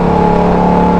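A KTM motorcycle engine runs close by with a steady, throbbing drone and strong, even harmonics, holding a constant pitch for the full second with no other sounds.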